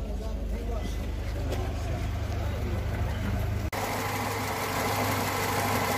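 A car with a two-litre petrol engine idles steadily at a car market in Khujand, a low continuous rumble heard close and at moderate level, with a brief break partway through.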